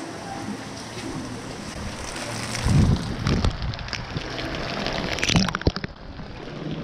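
Rain falls outside a house under construction, a steady close hiss with occasional gusty bumps and knocks.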